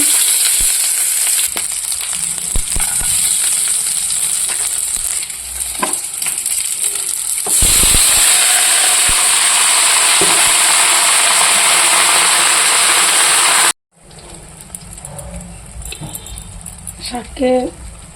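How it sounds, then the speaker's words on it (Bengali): Loud, steady sizzling of leafy greens frying in a pan with turmeric, with stirring scrapes and a cut partway through; a person talks over the cooking near the end. "এদিকে এই যে শাক ভাজা বসিয়ে দিচ্ছি।"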